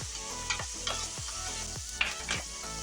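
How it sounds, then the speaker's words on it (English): Onions browning in a pan for Texas-style chili, loud close sizzling broken by a handful of sharp scraping stirs about every half second, no talk. "I like to get my stuff a little brown,"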